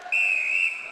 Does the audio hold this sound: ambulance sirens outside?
no